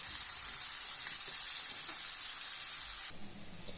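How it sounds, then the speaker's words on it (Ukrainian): Onions sizzling steadily as they fry in a hot pan, a bright crackling hiss that holds evenly, then softens slightly near the end. "І все це жариться, допоки цибулька не стане золотистого кольору."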